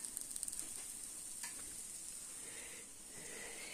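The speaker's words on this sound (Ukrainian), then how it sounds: "На іншу пательню трошки більш масла додала. Так. І цибулю підсмажу." Onion frying in a pan of oil, a steady close sizzle with a faint high hiss and a few soft clicks of stirring, heard alone without talk.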